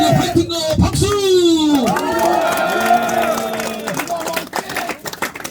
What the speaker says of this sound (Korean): 힘차게 화이팅과 박수!